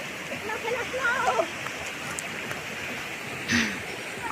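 Water rushes steadily in a river at a campsite, a continuous close hiss filling the background while voices talk faintly over it.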